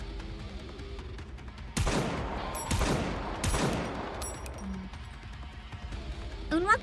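Video game gunfire from a battle in GODDESS OF VICTORY: NIKKE cracks out in three sharp, loud bursts about a second apart, each trailing off, followed by quieter scattered shots and faint background tones.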